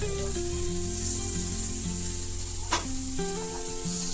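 Paneer fries in a pan for paneer tikka, giving a continuous close sizzle with a brief clatter of stirring near the end.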